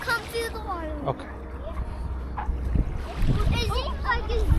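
Splashing through shallow lake water at a beach, uneven wet splashes building louder near the end, under a child's and adults' voices talking nearby.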